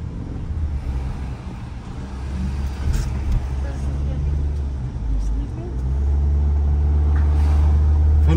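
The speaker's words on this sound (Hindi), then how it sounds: "फुल ट्रैफिक जैम है हर तरफ।" Heavy traffic crawling through downtown Gatlinburg, Tennessee at night, a steady low rumble of car and bus engines close by that grows louder toward the end, with people talking over it.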